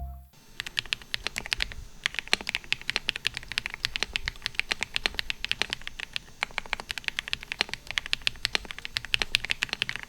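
Rapid, even typing on a mechanical keyboard fitted with KeyTok Beat Boy Smile profile die-sub keycaps, a dense stream of crisp close clacks and taps with no voices.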